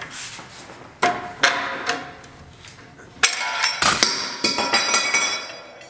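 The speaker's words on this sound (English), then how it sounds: "The tried and proven pry bar technique seems to work the best" A steel pry bar works a tie rod bracket off a right-hand-drive Jeep JK, giving sharp metallic clanks and clinks, several spaced strikes followed by a denser burst of ringing knocks and scraping, close up and without talk.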